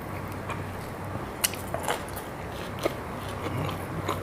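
Raw bell pepper bitten and chewed up close, a few sharp crisp crunches followed by wet, soft chewing over a steady background hum, without speech.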